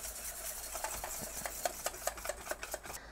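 A beef marinade with black pepper being quickly mixed in a bowl, soft rhythmic stirring and scraping strokes that grow sharper and more distinct toward the end.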